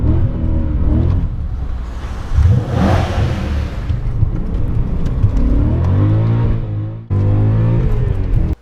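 A BMW M5 E39 with its V8 engine revs hard and pulls away, the loud, deep roar climbing through the gears before a brief drop and a second surge.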